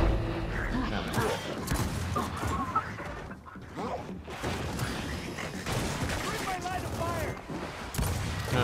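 Dense, continuous gunfire and explosions from the video game Gears of War 4 run loud and unbroken throughout, with a voice speaking briefly over the combat.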